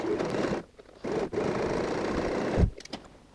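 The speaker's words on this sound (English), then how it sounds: "sew a stitch starting and finishing with a back stitch" A sewing machine stitches fabric for a tote bag, its fast motor whir running in bursts with brief pauses and a short back-and-forth for the back stitch, close and fairly loud.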